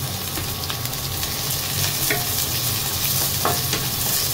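Chopped garlic, onion and ginger fry in a pan with a loud, continuous sizzle, broken by light scraping as the pieces are stirred around.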